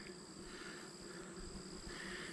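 Honey bees hum steadily around an open hive frame during a late-summer hive split, a faint, even drone with a few higher whining tones and no talk.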